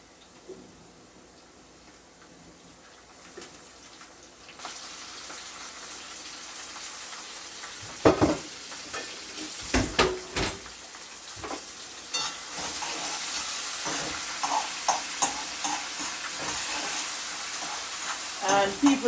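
Saltfish and callaloo fry in a pan with a soft, steady sizzle that grows louder partway through, broken by sharp clatters and stirring taps, with a few quiet words of talk.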